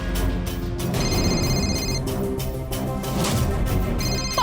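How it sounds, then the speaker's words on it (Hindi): A mobile phone rings in a repeating electronic tone pattern, heard at moderate level amid background room noise. "आपके फोन की रिंग बज रही है।"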